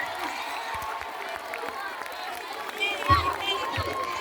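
Applause and crowd noise break out for a student at a Yoruba-language school quiz at Apata Community Grammar School in Ibadan, brief clapping that builds toward the end over a noisy hall.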